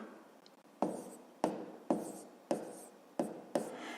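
A pen writes out a math solution on paper in a series of sharp, regularly spaced strokes and taps, close and quiet, with no voices.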